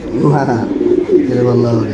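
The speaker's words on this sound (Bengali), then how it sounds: "নর্মাল দুটোটা নৌকা শেপের কবুতর দেখেন" Boat-shaped pigeons coo in low, throaty, continuous rolls, close and fairly loud, with voices murmuring faintly around them.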